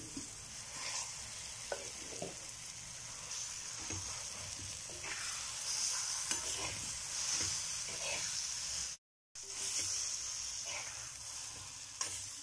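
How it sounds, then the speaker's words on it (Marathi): Brinjal pulp frying in hot oil with a garlic tempering, stirred over full heat for bharta: a steady sizzle with recurring scrapes of the spoon against the pan, briefly cut off by a short gap. "वांग्यांचा गर टाकून घेते मी."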